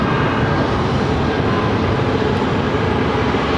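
Boeing 737-800 airliner in oneworld livery at Phoenix airport, a steady loud broadband engine roar with no voices, holding constant throughout.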